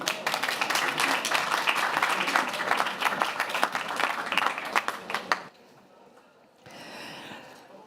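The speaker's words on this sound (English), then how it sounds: "Please give her a round of applause." Audience applause breaks out at a conference side event in a German pavilion on plastic pollution, with dense, loud clapping for about five seconds before it cuts off abruptly, then a brief quieter patch of room sound.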